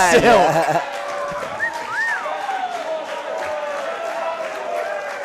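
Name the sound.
wrestling arena crowd cheering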